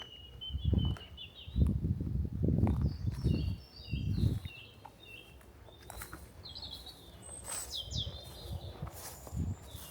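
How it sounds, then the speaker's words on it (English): Birds chirping and calling in scattered bursts, fairly distant, disturbed by heavy thumps and rustling of movement close by on an abandoned estate. "It just disturbed the birds."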